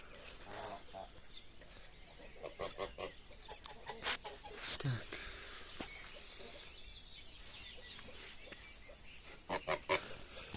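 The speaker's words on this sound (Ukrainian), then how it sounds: "Гуськи." Domestic geese, a pair of Landes geese and a Carpathian goose, honk and cackle in a farmyard as poultry are let out, several calls scattered among rustling and other farm noise.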